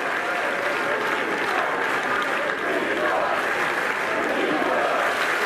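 Steady, dense applause with cheering from a large tennis crowd at a French Open match, sustained at full volume throughout without breaks.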